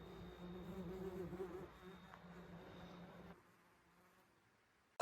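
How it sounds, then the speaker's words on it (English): Bees hum in a steady, moderately close drone that fills the first few seconds, then drops away to near quiet with a brief noise at the very end. "it's the bees."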